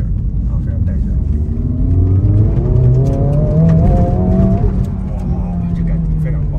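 A Dongfeng Honda Civic Type R hot hatch on a race track accelerates after a lift-off, its engine note climbing steadily in pitch as it pulls away, loud and close, with a voice talking over it.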